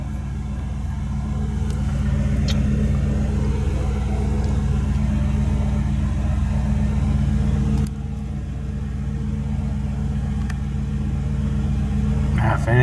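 A car engine runs steadily after a fix for boiling gasoline, a continuous low idle rumble filling the whole stretch at close range with no pauses.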